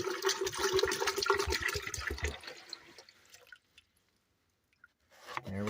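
Water pours into a Berkey gravity water filter with a splashing, gurgling rush for a few seconds, then trails off into a few faint drips and near silence before another brief pour.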